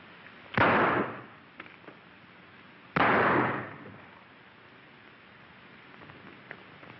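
Two sharp, loud gunshots crack out a couple of seconds apart during a shootout in a 1933 John Wayne western, each one leaving a short ringing tail over faint background hiss.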